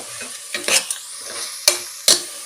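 Green peas and salt sautéing in a pan for biryani: close, fairly loud scraping stirs with sharp spatula strokes against the pan over a soft, steady sizzle.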